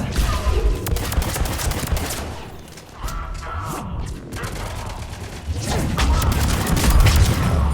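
A rocket launches and blasts in a Mass Effect 3 multiplayer battle against Cerberus forces, rising out of loud, continuous gunfire and booming impacts.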